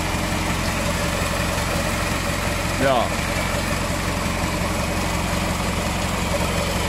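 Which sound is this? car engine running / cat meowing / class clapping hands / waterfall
car engine running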